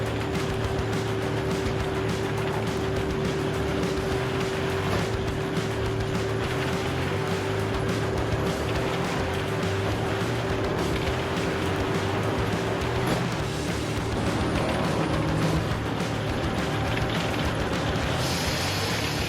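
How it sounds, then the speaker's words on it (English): A sharp circular saw blade spins at high speed as it cuts through a log fed on a conveyor belt, making a loud, continuous mechanical whine and grind with a steady droning tone and no talk. "As the log is placed on the conveyor belt, the sharp saw blade spins at high speed."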